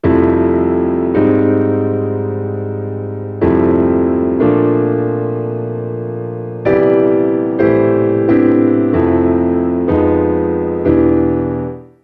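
Block chords struck on a keyboard's piano patch, about seven sustained chords each ringing and slowly decaying before the next, loud and close with no voice.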